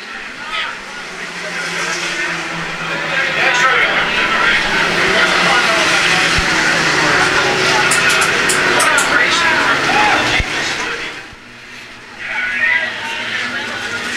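Sprint race cars roar around the dirt oval at the Belleville Nationals, a loud sustained engine drone rising and falling as cars pass, with commentary spoken over it before it briefly dips.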